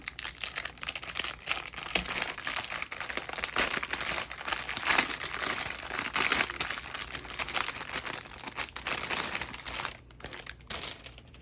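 Plastic packaging of an embroidery kit with needles, rings and colored threads being opened, giving continuous close crinkling and crumpling with a few sharper tearing bursts, steady throughout with no talking.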